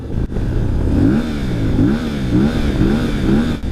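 A CF Moto Ibex 450 twin-cylinder motorcycle engine revs up repeatedly in quick bursts, rising and falling about four times, close and loud with a rough tone.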